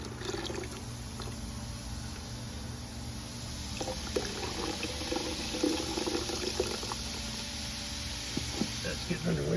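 Water runs and splashes while gold refining residue is rinsed in a bucket, a steady close wash with a faint mechanical hum underneath and occasional clinks.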